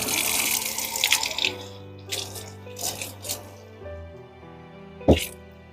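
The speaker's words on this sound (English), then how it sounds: "I'm going to go ahead and turn the water on." Warm water runs from a tap during a reborn baby doll head replacement, a steady broadband wash with rattling bursts, mid-level and close, under ongoing talk.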